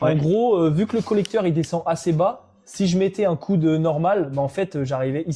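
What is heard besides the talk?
No distinct noise like a dog, phone or traffic.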